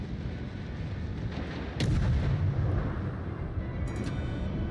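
Naval gunfire in World of Warships, a loud booming salvo bursting in about midway and rumbling on over steady sea and engine ambience, with a short crackle near the end.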